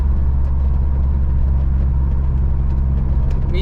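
A truck engine idles with a steady, deep, even rumble close by, constant throughout with no talking.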